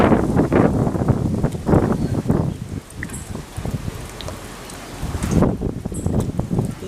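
Strong wind blowing outdoors in the aftermath of Hurricane Irma, a category 5 storm, loud broadband gusts buffeting the microphone and rising and falling in surges, with rustling debris and no talking.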